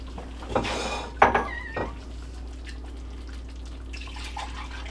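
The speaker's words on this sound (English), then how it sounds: "Let's see if I can fit the rest of the broth in this pot." Duck broth is poured from one vessel into a cooking pot in a home kitchen, with a few short splashes and clinks of cookware in the first two seconds, then quiet room hum.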